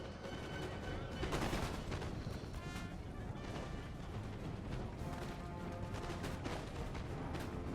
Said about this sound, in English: So now they're going to start opening fire.